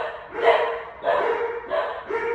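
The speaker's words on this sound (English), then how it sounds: "sorry about the dogs" Dogs bark repeatedly in the background, four or so muffled, evenly spaced barks from another room, with someone talking over them.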